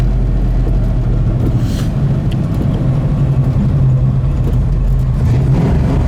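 A restomod 1965 Ford Mustang Fastback idles with a steady, loud low rumble, a deep continuous drone with slight variations and no speech.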